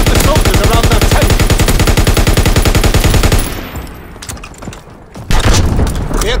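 Rapid, evenly spaced bursts of MG15 machine gun fire from the WW2 shooter Call of Duty WW2, loud and close, hammer steadily for about three seconds, fade into low battlefield rumble, then end with one sharp blast.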